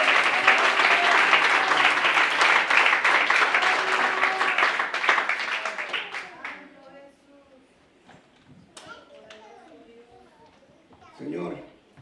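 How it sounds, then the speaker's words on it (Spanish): A church congregation claps loudly together in dense, sustained applause that fades out after about six seconds, followed by a voice speaking over a quieter room. "Dale un fuerte el aplauso al Señor."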